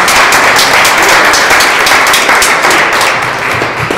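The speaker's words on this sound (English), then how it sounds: "round of applause for that" A round of applause at an artist panel, with dense, loud clapping from the audience that continues throughout and eases slightly toward the end.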